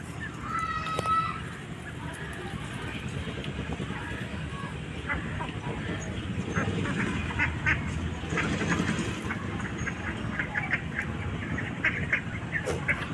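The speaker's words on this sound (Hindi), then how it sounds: "दो महीने के बत्तख हैं अभी ये, और बैठे हैं 10-15 बत्तख हैं पूरे मैदान में बैठे हुए।" A flock of two-month-old ducks quacking nearby in a field, scattered calls overlapping across the clip against outdoor background noise.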